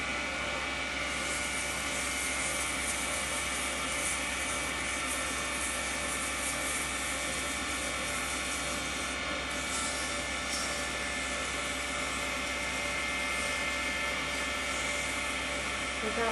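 A power sander with 150 grit sandpaper runs steadily and evenly throughout, a dense constant whine with no breaks.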